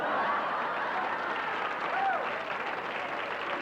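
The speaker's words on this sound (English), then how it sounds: "What are you clapping for?" A studio audience at a 1980 television show claps steadily under scattered chuckles and murmurs, at moderate volume throughout.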